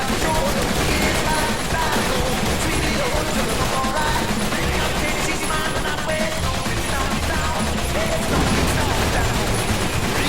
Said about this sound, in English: So keep your minigun movement very tight, and you'll find yourself saving just a ton of time in these areas.